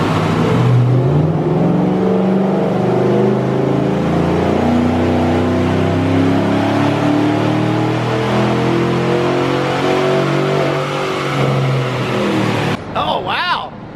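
A Chevrolet Silverado engine revs hard and loud through a dyno pull, pitch climbing steadily for about twelve seconds before cutting off abruptly, with voices briefly audible at the end.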